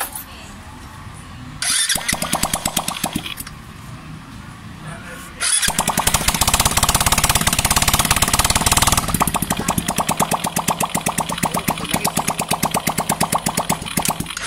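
A repaired engine runs with a fast, rough clattering knock, idling unevenly at first, then revving up louder and harsher into a rapid mechanical rattle that continues close and loud.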